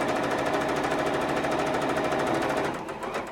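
A sewing machine runs fast, stitching a seam on a quilt made from 10-inch layer cake squares, giving a close, loud, even rattle that slows and stops at the end.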